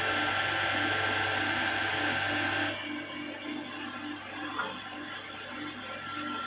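A steady mechanical whirring of a reamer on a lathe cleaning up a metal cylinder bore, louder for the first few seconds, then settling into a lower, rougher hum with a faint scrape.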